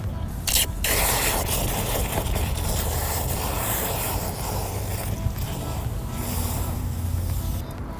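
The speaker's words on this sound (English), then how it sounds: "And then we're gonna activate it using the hose." A garden hose sprays water into a bucket of Diablo Wheel Gel for car wheel cleaning, producing a steady, loud, close hiss and rush of water that is briefly interrupted near the start.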